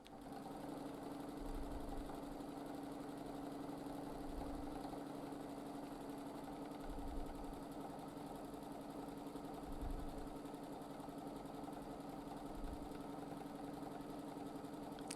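A sewing machine running steadily during free-motion quilting, a continuous even mechanical whir and hum with no break, fairly quiet and alone.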